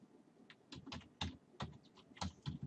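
Someone types a command on a computer keyboard in a Windows 8 setup, producing a quick irregular run of crisp, close key clicks at moderate loudness with no voices.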